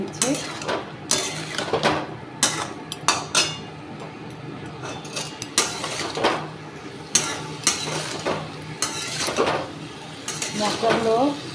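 Raw green banana being tossed with salt, turmeric and Kashmiri chilli powder in a pan, with a utensil scraping and clinking against the metal in irregular close knocks over a low steady background.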